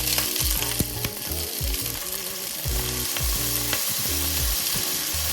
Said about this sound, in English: I will go ahead and throw in the carrots and scallions real quick, just to give them a quick sear